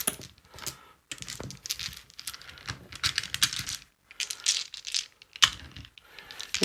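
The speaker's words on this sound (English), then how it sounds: "So now I just have to pick up all of these dice." Plastic dice being scooped up from a tabletop during a wargame, with a loose run of light clicks and rattles in irregular bursts broken by short pauses.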